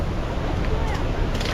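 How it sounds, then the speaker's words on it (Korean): The Huangguoshu waterfall in Guizhou, China, heard from the entrance as a constant broadband rushing roar, steady and moderately loud throughout. "벌써부터 여기는 입구부터 폭포 소리가 나요."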